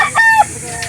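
A banded early bird game fowl rooster crows at a poultry market, one short close loud call that breaks off partway and is followed by a faint trailing note.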